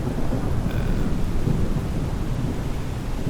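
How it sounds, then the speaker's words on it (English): Thunderstorm rain in the Microsoft Flight Simulator video game makes a dense, steady hiss and patter, and a low thunder rumble rolls underneath, constant throughout with no voices. "It would be nice to see the rain bouncing off the roof."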